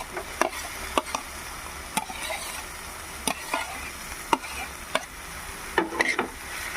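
Peas, French beans, carrots and chillies get stirred in a hot pan, a steady sizzle with sharp scrapes of the spoon against the pan at irregular intervals, close and clear.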